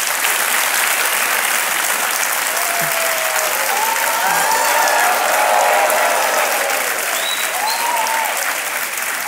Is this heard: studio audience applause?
yes